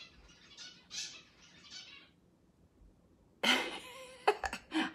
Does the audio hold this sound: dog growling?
no